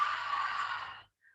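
A slow, breathy exhale during a Pilates small-ball exercise, soft and close, lasting about a second and then fading to silence.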